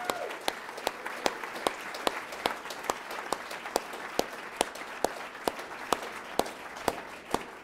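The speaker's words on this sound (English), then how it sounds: "let's give them another round of applause" Audience applause at an awards ceremony for a national park experience honor, continuous clapping with one clapper's rhythmic, evenly spaced loud claps standing out over the crowd.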